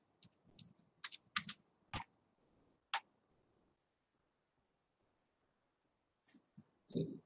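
Keys tapped on a computer keyboard in short, scattered bursts of clicks with pauses between, fairly close and moderately loud, with no talking over it.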